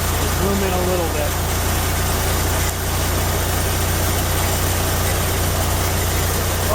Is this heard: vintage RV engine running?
yes